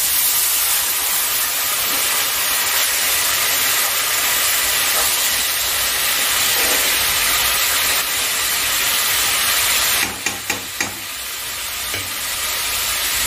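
Dried loitta fish with fried onion and garlic sizzles in a pan after a splash of water goes in. A loud, steady, hissing sizzle runs throughout, with a few brief clinks near the end.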